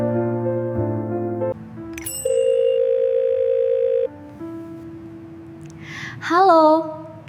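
A telephone dial tone sounds while a call is placed in a drama, a series of steady electronic tones shifting in pitch, followed by a short ringing chirp near the end.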